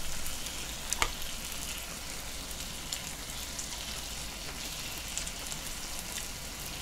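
Steak frying in a pan, giving a continuous close sizzle and spatter with an occasional sharp pop and light stirring, no voices.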